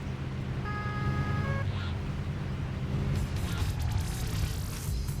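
Car engine in the racing game Crash Time 3, a steady low drone that keeps running at moderate volume as the car cruises, with brief tonal game sounds layered over it early on and no talk.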